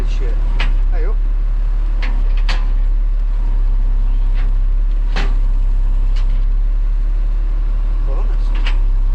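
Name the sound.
old Tarrup PTO-driven straw blower running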